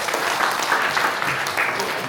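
Audience applause at a church donation ceremony, a steady dense clapping that fills the whole moment at close range with no break.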